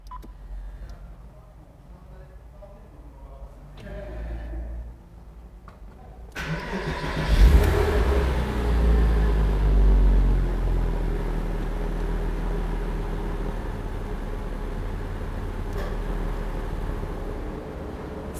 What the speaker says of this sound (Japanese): ではエンジンを始動します